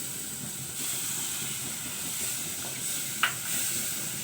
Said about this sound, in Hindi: थोड़ा थोड़ा करके हम इसमें ये दूध डालना शुरू करेंगे ताकि इसमें ये लम्स ना